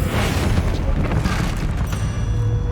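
A Bombarda spell in Hogwarts Legacy erupts as a loud, sustained blast of rumbling booms and crackling debris, dense and close for nearly three seconds.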